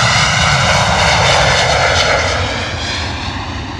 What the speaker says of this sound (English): Oh, early rotation as well from Wizz Air.